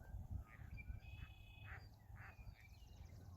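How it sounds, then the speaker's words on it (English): Ducks on a pond give several faint, short nasal calls at irregular intervals over a low outdoor rumble, with no voices. "there's some ducks out on the pond there"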